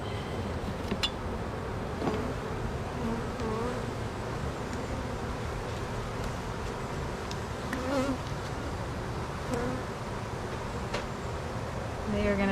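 Honey bees buzz densely and continuously around a hive split, a close, steady swarm drone with individual bees flying past, while a voice occasionally speaks faintly beneath it.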